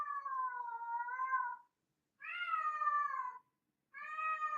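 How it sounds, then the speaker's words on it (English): A house cat meows three times in drawn-out, wavering calls separated by short pauses, close and clear in a quiet room. "Do you guys hear the cat?"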